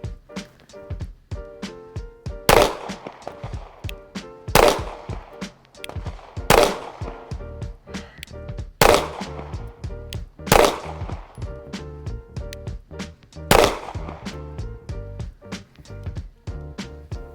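A Sig P365 XL pistol fired outdoors, several loud, sharp shots spaced roughly two seconds apart, each with a brief ringing tail, and no talking between them.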